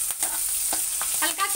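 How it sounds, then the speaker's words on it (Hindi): Green chillies fry in a pan with a close soft sizzle and a few sharp stirring taps and scrapes, brief and moderately quiet. "इसी पे मैं हरी मिर्ची डाल दे रही हूँ, इसके अंदर"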